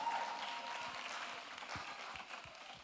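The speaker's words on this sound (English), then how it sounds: "A round of applause for them once again." Audience applause at a student summit competition: a steady wash of many hands clapping, heard from a moderate distance and fairly even throughout, with a few low thumps.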